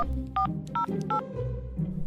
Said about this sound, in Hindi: संध्या बिना देर किए मालती को फोन लगाई।